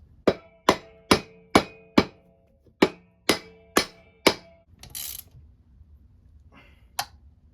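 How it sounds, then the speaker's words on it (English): Nine sharp metallic hammer blows ring out in a steady rhythm as a drum is driven back into a 4L60E transmission, followed by a brief rattle and one final strike, close and loud. "I have to kind of hammer this back in"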